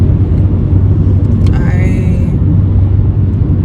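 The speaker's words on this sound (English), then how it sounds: "I'm driving now." A car drives on the road, heard from inside as a steady loud low rumble of engine and road noise, with a brief higher whine partway through.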